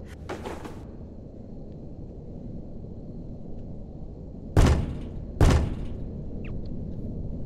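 Two heavy thuds land about a second apart in The Joy of Creation horror game, loud and close against a low steady background hum.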